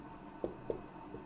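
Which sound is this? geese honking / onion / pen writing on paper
pen writing on paper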